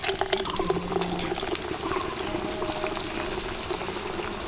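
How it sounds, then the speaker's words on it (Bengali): Bubbling, crackling oil as puffed-rice chops deep-fry four at a time, a busy close sizzle with rapid pops and a soft gurgle underneath, no talking. "এগুলোকে আমি ডুবো তেলে ভাজছি"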